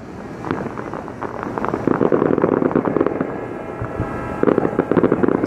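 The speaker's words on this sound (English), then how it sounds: "open with the fireworks at the Pan Pacific" New Year's Eve fireworks burst over the bay near the Pan Pacific in Vancouver, Canada. Distant rapid crackles and popping booms overlap in dense clusters, swelling into heavier volleys partway through and again near the end.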